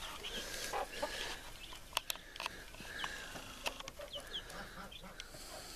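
A brooding hen and her young chicks in a farm enclosure, with soft clucks and high cheeping running steadily throughout, close by and moderately loud, with a few sharper peeps standing out.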